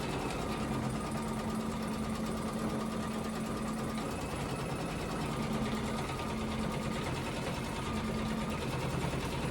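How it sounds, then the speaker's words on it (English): A sewing machine stitches a long satin stitch on a fabric door hanger, giving a steady, fast, even mechanical hum and clatter that runs unbroken throughout with no talk. "I think that will sew down that really long satin stitch"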